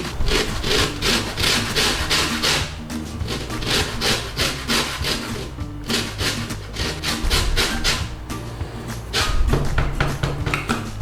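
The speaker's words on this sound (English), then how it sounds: "So just zest it down nice and steady." A lemon being zested for homemade peri peri sauce, a steady, loud rasping scrape repeated in quick strokes with no pauses and no talking.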